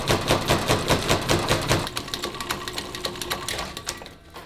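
A small lathe fitted with a freshly sharpened tool is switched on and runs with a fast, loud mechanical clatter. The rattle eases slightly after a couple of seconds, then the machine winds down near the end.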